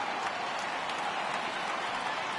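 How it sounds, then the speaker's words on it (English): A baseball crowd in a video game, Indians at Astros, rises for a 3-2 count with a steady broadband wash of cheering and murmur, held at an even level through the whole short stretch. "Crowd gets up for the 3-2"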